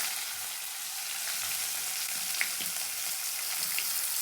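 Chopped onions frying in hot oil with ginger in a pan for a dhaba-style dal, a steady, even sizzle with faint crackles and occasional stirring scrapes, no voices.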